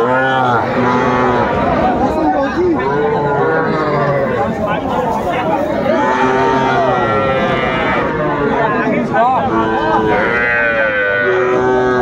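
Young bulls moo repeatedly and loudly at a crowded cattle market in Manikganj, long bellowing calls overlapping with constant nearby chatter of buyers and sellers.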